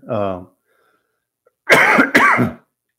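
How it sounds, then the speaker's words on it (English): Someone with a cold makes a brief vocal sound, then a pause, then two harsh coughs close up. "Sorry if I'm coughing a little bit"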